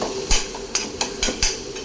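Green chili and coriander paste going into a hot pan for ridge gourd curry, with a soft steady sizzle and several sharp scraping stirs close by, spaced at regular intervals.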